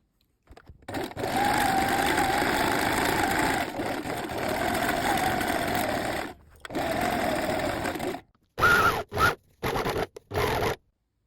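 A sewing machine runs a triple elastic stitch 7 mm from the edge of a trouser seam, buzzing steadily through two long runs, then stopping and starting in a few short bursts.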